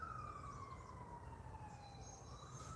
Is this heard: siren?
yes